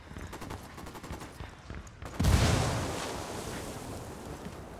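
A frag grenade goes off in Ghost Recon Wildlands, a sudden heavy boom after a stretch of quieter gunfire and movement, its low rumble and debris wash lingering and slowly fading.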